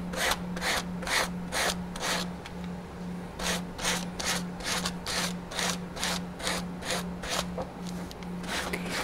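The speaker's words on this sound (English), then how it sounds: "you can just fold up a piece of sandpaper, that works too" Folded sandpaper rubbed back and forth along a paper edge on a wooden pumpkin, a steady run of close scratchy strokes repeating about twice a second, alone with no talk.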